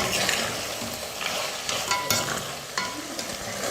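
Mutton sautéing in hot oil in a pan: a loud, close sizzle broken by repeated scraping stirs, with no talking.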